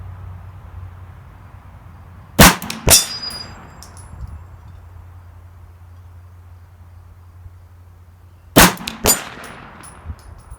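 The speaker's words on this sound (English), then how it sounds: "keep on hitting the top spinner" Bullets from a PSA AKV 9mm strike a steel spinner target, giving two separate bursts of sharp, ringing metallic clangs with the shots, each burst a few quick hits over steady low background hum.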